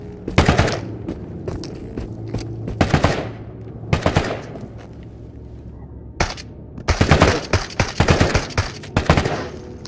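Pellet guns fire in the video game Into the Radius: loud, close bursts of rapid shots in several clusters, with short pauses between them.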